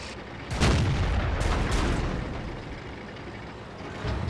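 Heavy tank cannon shots boom in a TOG tank battle game, three or four deep blasts within a few seconds over rumbling engine noise, with no talk.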